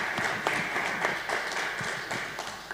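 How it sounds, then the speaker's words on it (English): An audience at a panel event on women in war applauds, a dense patter of claps at moderate level lasting a few seconds with no voices over it. "Give them a round of applause."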